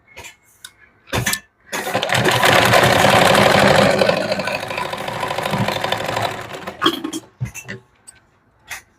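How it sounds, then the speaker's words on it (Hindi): A sewing machine runs steadily for several seconds while stitching a princess cut blouse, with short mechanical bursts and clicks before and after the main run. "फिर यहाँ पर सिलाई लगा लेंगे।"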